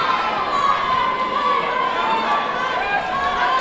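At a Pure Power Wrestling show, a lively crowd cheers and shouts steadily throughout, a constant roar of voices close around the ring under a commentator's excited talk.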